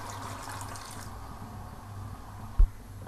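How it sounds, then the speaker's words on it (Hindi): Half a cup of water poured into a simmering kofta curry, a soft steady liquid wash with a low hum underneath and one brief knock near the end, fairly quiet and without speech. "अब इसमें 1/2 कप पानी डाल देंगे।"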